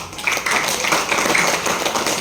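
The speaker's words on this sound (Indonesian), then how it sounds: "Tepuk tangan untuk anak muda." Audience at a talk on young people clapping, steady dense applause of moderate loudness from a crowded room, with no voices over it.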